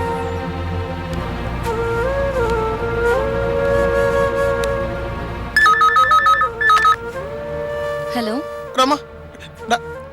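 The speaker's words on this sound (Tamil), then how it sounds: "அப்புறம் ஏன் ஃபோன் பண்ணி தொல்லை பண்றீங்க?" A telephone ringing in a Tamil TV serial scene, repeated loud electronic ring bursts that cut in over a sustained musical background soundtrack, with no voices.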